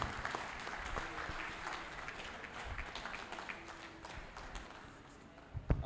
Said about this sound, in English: Please, can we make the applause for him more resounding?